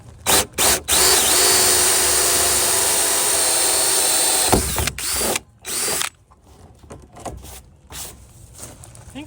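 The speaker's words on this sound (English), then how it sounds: "you just drill a hole in here and then attach it on the inside" A power drill boring a hole in a plastic rain barrel whirs steadily for several seconds, then stops and sputters in short bursts, close and loud.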